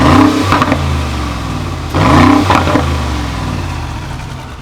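An exhaust burble comes from a Brabus WideStar Mercedes G after its exhaust valve button is pressed: a close, loud engine note with two short revving blips over a rumbling idle.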